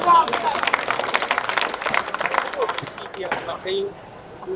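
An audience at a mushaira poetry gathering claps and applauds in a dense burst that gradually thins out, with a voice speaking over the tail end.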